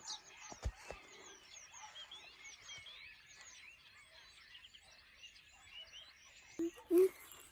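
Small birds chirp and tweet steadily in the background outdoors, a dense layer of faint high calls continuing throughout, with a few thumps and brief voices near the start and end.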